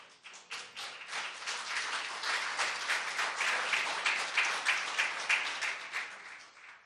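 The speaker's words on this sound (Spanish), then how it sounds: "Que esos aplausos sean solamente para el merecedor de todo honor," A church congregation applauds during a Sunday service, many hands clapping in a steady rhythmic beat that swells and stays strong, loud and close, with no talking.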